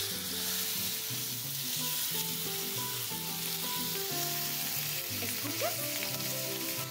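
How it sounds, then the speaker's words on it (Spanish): Taco meat frying in a pan with oil, a steady loud sizzle and hiss that runs throughout, while a soft musical tone plays underneath. "Pon la carne en el sartén."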